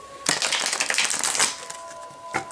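Tarot cards shuffled by hand in one quick, close riffling burst of dense papery flutter lasting about a second, then a brief soft snap, with a faint tone behind it.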